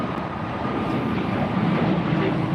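An Air Canada jet passes at LAX with a steady, loud broadband roar that holds evenly throughout, nearby and alone with no voices.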